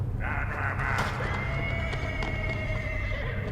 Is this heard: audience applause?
no